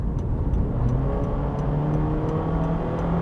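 A 2023 Honda HR-V small crossover accelerating hard at full throttle, its mid-pitched engine droning steadily and loudly from close inside the cabin, with no talk over it.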